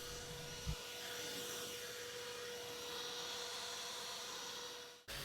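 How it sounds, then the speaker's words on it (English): A leaf blower clears leaves and debris off a car during an interior detailing job, a steady, loud broadband roar that holds for several seconds and then cuts off abruptly near the end. "So just take a minute or two just to blow off the leaves off the vehicle, any debris that you can,"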